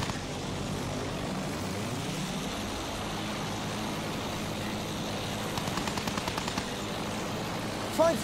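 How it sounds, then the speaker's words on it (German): Enemy aircraft in the Battlefield 1 video game, a steady propeller-engine drone that fills the scene with a rising pitch sweep early on, mixed with distant gunfire and in-game voice callouts, with a sharp burst near the end. "Feindflugzeug, aufpassen!"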